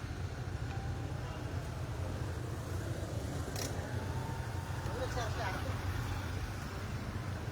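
Slow, heavy street traffic on Mabini heading toward a stoplight produces a constant low engine rumble and idling hum close by, with a faint voice murmuring beneath it.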